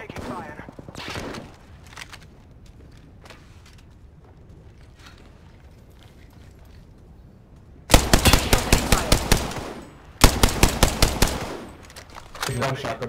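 Video game gunfire from a squad shooter, with two loud rapid automatic bursts near the end after quieter scattered shots and clatter earlier.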